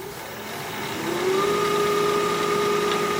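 A wood lathe hums steadily while a tool shear-scrapes the spinning wood. A faint, even scraping tone rises slightly partway through and then holds at a moderate level.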